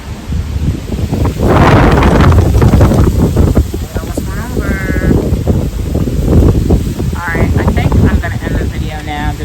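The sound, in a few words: strong wind blowing outdoors into microphone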